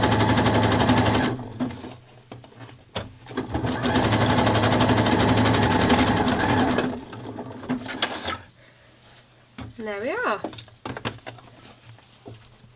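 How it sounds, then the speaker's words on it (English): A sewing machine runs a 3-step zigzag top stitch to attach lace to bra fabric, buzzing loud and close in two long bursts with a pause between, followed by softer handling sounds and a brief voice. "Nicely top stitched with a 3-step zigzag stitch all along the top of the fabric there."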